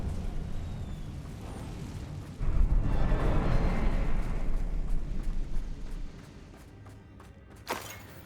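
A Confringo explosive spell from Hogwarts Legacy bursts into a booming blast a couple of seconds in, a loud rumbling roar that lingers and fades, with a sharp smaller crack near the end.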